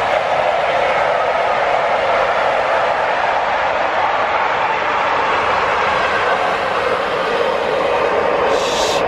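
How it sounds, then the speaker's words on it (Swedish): A train rushing past at close range, a loud sustained roar of wheels and carriages that stays steady for the whole stretch with no voices. "Här kommer tåget, Aremyr!"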